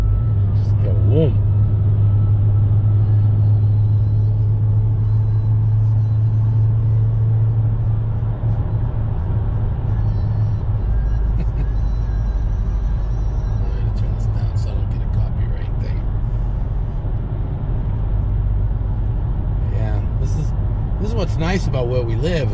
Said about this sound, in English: First impression in the wide body Challenger. Try hitting the gas a little bit.